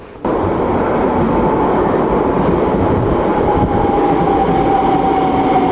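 Loud, steady rumble of a moving train in central Tokyo, heard from inside a fairly crowded carriage, with a constant roar and a faint high whine running through it.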